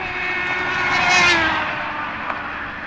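A Nissan Primera passes by on a road, its engine and tyre noise swelling to a peak and then fading as the pitch drops, a single pass heard from the roadside with no talking.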